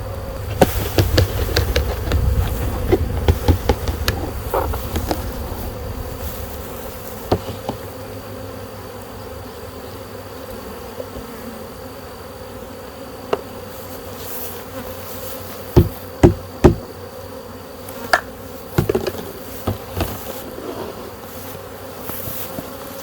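A steady, dense buzz of many honey bees close by, broken by a few sharp metallic taps on a pan early on and again partway through.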